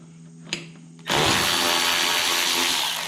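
A power tool runs a 10mm socket to remove a bolt from a Cub Cadet mower arm rest: a short click, then a loud, continuous whirring drive that starts abruptly and holds steady for about two seconds.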